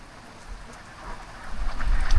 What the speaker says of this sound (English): The rain's sort of become regular